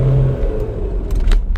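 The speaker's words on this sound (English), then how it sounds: "That's full throttle." A 2007 Kia Sorento 2.5 CRDI diesel pulls away from a standstill at full throttle, its engine drone rising steadily under a loud, constant rumble with faint rattles near the end.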